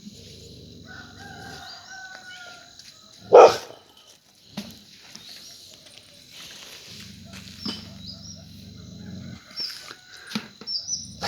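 A golden retriever lets out one sharp, loud bark indoors, followed by quieter rustles, a low hum and scattered small sounds.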